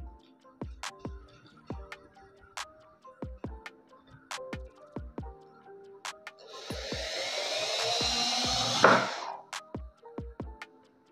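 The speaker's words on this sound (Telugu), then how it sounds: "ఇప్పుడు చూడండి, నేనైతే మన స్క్రూ అయితే టైట్ చేస్తాను" An Enon electric drill drives a screw tight, a whirring burst of about three seconds rising in pitch and strain, surrounded by scattered sharp clicks and taps from handling.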